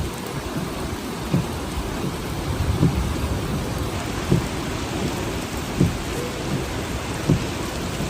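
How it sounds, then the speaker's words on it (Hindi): Torrential rain pouring steadily in Medina, a dense hiss of drops on hard surfaces and standing water, with several dull thunder thumps spaced a second or so apart. "मदीना शरीफ की मूसलाधार बारिश, सड़कों पे खड़ा हुआ पानी"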